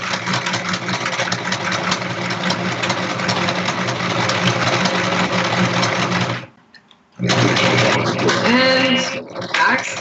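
A home sewing machine runs steadily while sewing a back stitch, a loud continuous mechanical whir that stops briefly near the end and then starts again.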